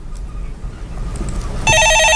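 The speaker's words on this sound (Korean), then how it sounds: "네, 전화 받아보겠습니다." A telephone rings once with a bright electronic trill, starting suddenly near the end over low background rumble of a studio.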